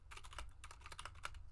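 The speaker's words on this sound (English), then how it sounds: "gosh, I am typing horribly today." Fingers tap quickly and unevenly on a computer keyboard during a coding session, producing a close, quiet run of crisp clicks with no voices.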